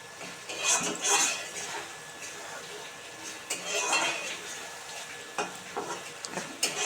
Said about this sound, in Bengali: এটা ভালো করে এবারে কষু তেল ছাড়া অবধি